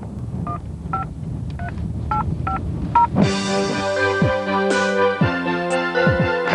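A run of touch-tone keypad beeps, six short evenly spaced dual-tone presses, as a phone number is dialed inside a car. Clear, close tones over a low background hum, followed by a louder busy tonal passage. No speech.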